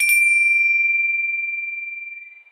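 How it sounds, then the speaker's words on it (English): A Tibetan bell from Tibet is struck once, giving a bright metallic strike followed by a single clear, sustained ringing tone that slowly fades over a couple of seconds. "this one is a real Tibetan bell from Tibet"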